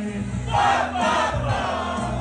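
Crowd singing along together at a karaoke night during a maker camp, a loud, swelling chorus of many voices rising in bursts over a steady backing track.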